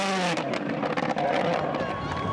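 A rally car's engine revs and snarls under braking on a stage of Rally de Portugal 2019, with crackling overrun pops, close and loud, while a voice talks over it throughout.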